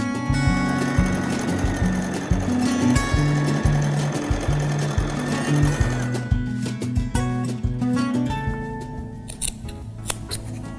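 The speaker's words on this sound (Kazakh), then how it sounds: "Бұл орамалымызды жан-жағын айландырып тігіп шығайық." An electric sewing machine stitches around the edges of a kitchen towel, a steady close rapid whir with stops and restarts, the motor pausing briefly several times before running on in shorter bursts.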